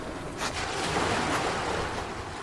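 Sea waves wash steadily onto a beach, a continuous broad roar of surf with gentle swells in loudness and no voices.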